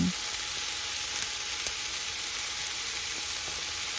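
Food sizzling steadily in a frying pan, seasoned with pepper and turmeric and browning, a constant close hiss with a few faint ticks and no talking.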